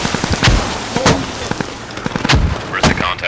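Sharp explosive blasts and gunfire in the military shooter game Squad, several loud booms among scattered shots, with speech faintly in the mix.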